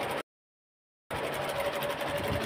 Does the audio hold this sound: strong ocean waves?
no